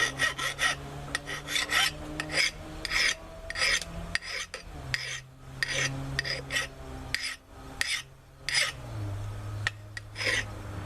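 A hand file rasps across a tool edge being sharpened, in repeated rhythmic strokes with short pauses between them, close and clear with no talking.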